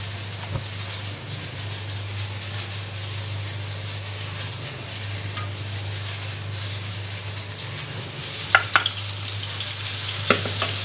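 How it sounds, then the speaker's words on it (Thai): Ginger and garlic stir-fry in leftover fish-frying oil, a steady low sizzle with faint scraping, then sharper clatters and louder frying near the end, no talking. "เอาน้ำมันที่เหลือ เดี๋ยวเอามาผัดขิงต่อเลยนะครับ"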